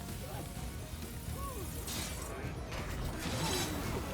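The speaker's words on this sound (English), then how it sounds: "Acid spray is back up and running." An acid spray trap in the Orcs Must Die 3 game whirs and clatters mechanically amid a dense, noisy battle din, with steady crunching and rattling throughout.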